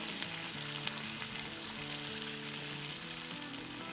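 Slit green chillies fry in hot oil, a dense, continuous sizzle with crackling pops, loud and close throughout, with no voices.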